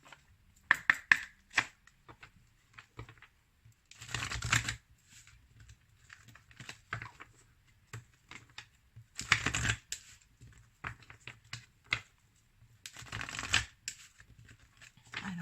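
Oracle cards shuffled and cut by hand, with bursts of riffling and flicking at close range between quieter card taps and handling, heard alone without talk.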